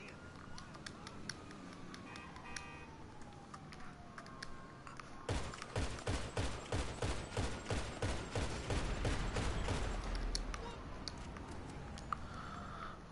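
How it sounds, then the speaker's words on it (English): Rapid gunfire in a video game erupts suddenly and loudly, a dense run of sharp shots lasting about five seconds before it trails off into quieter background sound. "See the way they're shooting at him?"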